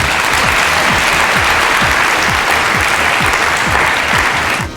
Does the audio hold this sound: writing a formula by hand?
no